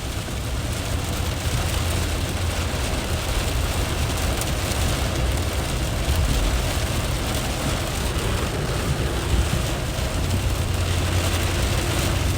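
Heavy storm rain pours steadily onto flooded streets during a severe thunderstorm, a dense, constant wash of noise with a low rumble underneath, loud and unbroken throughout with no voices.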